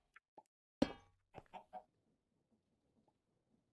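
Chickens in the Minecraft Stoneblock 3 modpack, with a few short clucks and a sharp pop heard close and alone, then fading to quiet.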